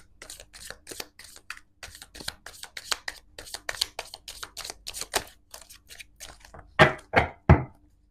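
Tarot cards being shuffled by hand make a run of quick, crisp, papery riffles and flicks. Three louder, sharp slaps of the deck close the sequence, heard close and with no talking.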